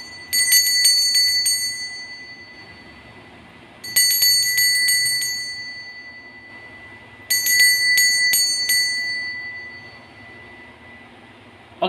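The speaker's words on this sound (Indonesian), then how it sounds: "kita akan mulai saja dengan ditandai lonceng berbunyi" A small bell rings in three separate bursts, each a quick run of bright, clear strikes that fade into a long ringing tail, loud and close against a quiet room.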